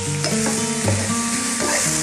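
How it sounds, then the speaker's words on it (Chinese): Minced pork and corn stir-fried in a wok, a loud continuous sizzle with repeated scraping and tossing strokes of the spatula, close up with no talking. "翻炒均匀"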